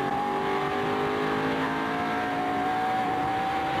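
Onboard view of the Napa Chevrolet NASCAR Winston Cup race car in 2003, a loud steady engine roar with the pitch shifting as the throttle is worked, continuous and close, with no talking over it.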